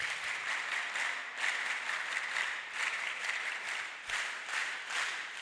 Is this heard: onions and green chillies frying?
no